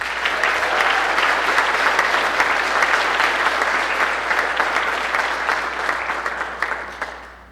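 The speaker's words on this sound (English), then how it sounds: "please give a warm round of applause as we welcome Mary Sanders" Sustained audience applause at a community breakfast, dense and loud, welcoming a speaker to the stage; it holds steady for several seconds and then begins to taper off at the end.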